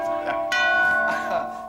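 The front doorbell of an old house rings in a TV studio show, a loud sustained chime of two ringing tones with bright overtones lasting over a second, with faint voices around it.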